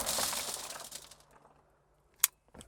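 A G9 round fired through automotive glass gives a sharp, brief crack with a glassy burst, then fading debris noise, a single loud snap near the end, and a smaller tick just after.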